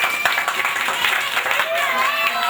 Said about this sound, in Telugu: ఈసారి పెద్దవాళ్ళ కోసం అందరూ కూడా పిల్లలు చప్పట్లు కొడదాం.